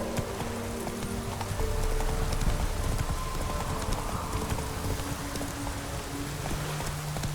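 A horse galloping in The Witcher 3 video game, its hoofbeats a fast, steady clip-clop under a rain-like hiss of game ambience, fairly close and continuous.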